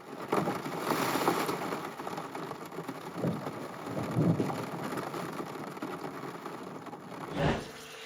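A thunderstorm with steady rain pattering on a surface, with low rumbles of thunder swelling now and then and a sharper crack near the end.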